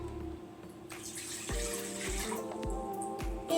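Water from a measuring cup pours into a bowl for flatbread dough, a soft continuous trickle with a few low thumps and clinks of handling, close and fairly quiet with no talking.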